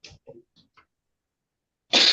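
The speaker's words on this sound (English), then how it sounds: "I'm gonna sneeze now." A single loud, abrupt sneeze erupts in a courtroom, close to the mic, after a few brief murmured syllables and a stretch of silence.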